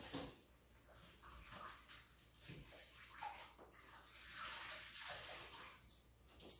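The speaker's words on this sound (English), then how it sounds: "Let me wash my hands real quick." Hands being washed under a running tap before a Tupperware kitchen press demonstration, a steady close splash of flowing water with some sloshing, no talking.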